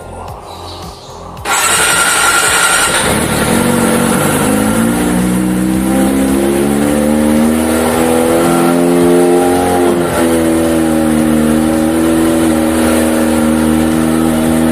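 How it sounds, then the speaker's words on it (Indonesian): A Kawasaki ZX25R motorcycle fitted with a ProSpeed Viper exhaust starts up after a brief quiet moment, then idles loudly and close with a deep, steady burble and rising harmonic hum as revs settle and lift slightly. "biar lo tahu suaranya ProSpeed Viper saat idle gimana sih guys"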